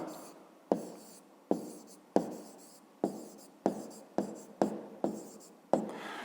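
A pen writing an answer for a fifth-grade math exercise, a series of about ten distinct, close, quiet strokes and taps on paper, each fading quickly.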